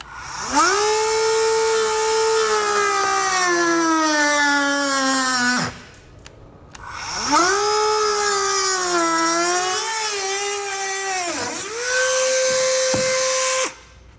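A power tool trims the bumper fascia of a 2022 Volkswagen for a Curt trailer hitch receiver, giving two long, loud, close whining cuts with shifting pitch and a brief pause between them.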